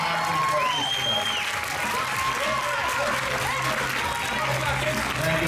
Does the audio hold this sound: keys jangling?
no